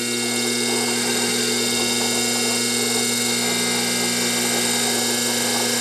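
A small DC motor on a speed control runs at about 1,000 RPM, giving a steady, loud, close whine and hum that holds constant throughout with no voices.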